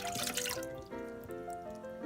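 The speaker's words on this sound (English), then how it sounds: "And then I need to add about a cup of water" Water poured into a pressure cooker pot, a short close splashing trickle lasting about two seconds, loud at first and then settling into a softer ringing dribble, with no voices.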